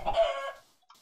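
A single short chicken cluck from a Minecraft chicken trap, clear and fairly close, trailing off into near silence before a faint click.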